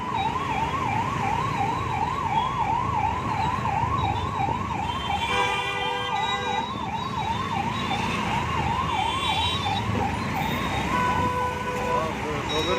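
An ambulance siren wails up and down in a steady, repeating cycle over the hum of traffic, loud and continuous throughout.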